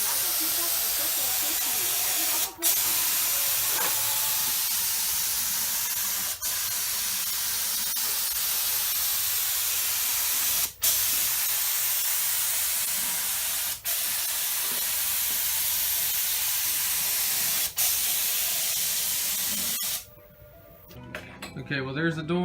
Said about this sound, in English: We're gonna go ahead and spray it.